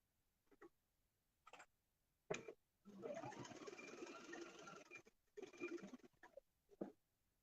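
Sewing machine stitching across the top of a patchwork fabric pocket, a steady whirring run of about three seconds flanked by short bursts and pauses.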